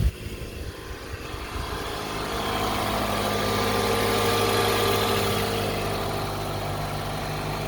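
A car engine idles steadily and evenly after an interior engine cleaning with AMSOIL Power Foam, a continuous close hum that swells slightly midway.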